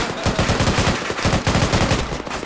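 Rapid bursts of video game gunfire crackle in a dense, continuous rattle of overlapping shots, loud and close throughout with no pauses.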